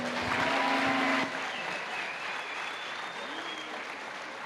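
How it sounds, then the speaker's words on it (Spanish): A church congregation at a Bible seminar bursts into loud applause for about a second, then the clapping thins to a softer, scattered patter that fades under faint room noise. "Con fuertes aplausos."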